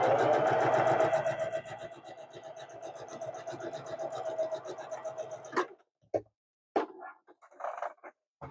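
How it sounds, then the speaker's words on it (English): A sewing machine stitches across the bottom of a fabric drawstring bag, running steadily for about five seconds before stopping, followed by a few short clicks and handling sounds. "Now we're going to sew the bottom of the bag, only the outside fabric."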